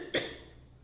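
A single short cough bursts out sharply near the start, close and fairly loud, followed by quiet room tone as a lecturer on reincarnation pauses.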